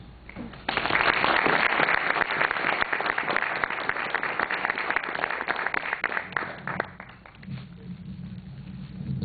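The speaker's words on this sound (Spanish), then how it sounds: "recibimos al maestro Sergio Urchitel con un fuerte aplauso." Sustained applause from a crowd, steady and full for several seconds before thinning out and fading near the end.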